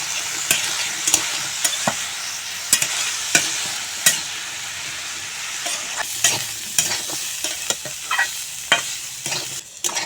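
Banana blossom frying in oil with turmeric and salt, a continuous bright sizzle broken by frequent clicking stirs of a spatula against the pan, near and steady with no voices.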